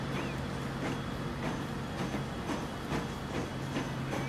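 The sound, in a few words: train passing in Transport Fever video game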